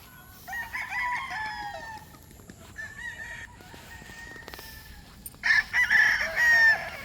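Roosters crow on a poultry farm raising stags and breeders, with chickens clucking around them. Several crows sound at moderate distance, separated by short gaps, and a louder crow rises near the end.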